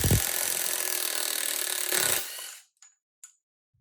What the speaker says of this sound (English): I'll take my impact and I'll go ahead and drive this nut out